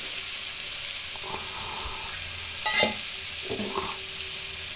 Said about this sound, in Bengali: মোচাটা যে হালকা সেদ্ধ করে রেখে দিয়েছিলাম সেই মোচাটাকে এর মধ্যে দিয়ে দিচ্ছি।